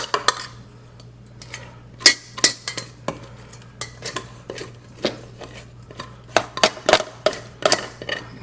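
A utensil scrapes cooked long grain rice out of a pan in a kitchen, making a run of sharp metallic scrapes and clinks that come in irregular bursts, close and fairly loud, with no talking.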